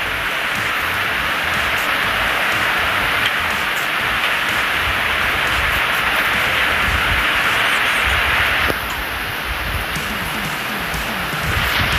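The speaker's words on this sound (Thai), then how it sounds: "ก็จะมีเสียงสายฝนนิดนึงนะครับ" Heavy rain falls steadily in the video game ARK, a dense, loud hiss of downpour that continues without a break, with one brief dip in level near the end.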